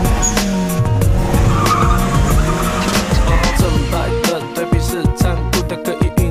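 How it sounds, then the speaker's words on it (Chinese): A Hangcha forklift drifting, its tires squealing and skidding loudly under steady engine noise, ending in a few choppy, uneven bursts of scraping. "看看我的漂移叉车。"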